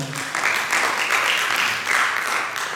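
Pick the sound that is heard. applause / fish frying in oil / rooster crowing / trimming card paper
applause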